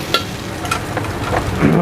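Nasi goreng kampung fried rice is stir-fried at a small food stall, with a close, brief burst of sizzling and scraping stirring.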